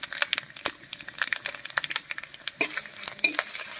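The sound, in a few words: whole spices tempering in hot oil for dal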